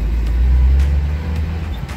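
A 1985 Jeep CJ7 in Anvil Gray drives down the road, a loud close low engine rumble with road and wind noise throughout and no talking.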